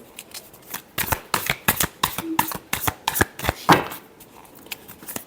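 Tarot cards being shuffled in a series of about a dozen crisp, close riffling snaps and flicks, spaced irregularly over several seconds, with no talking.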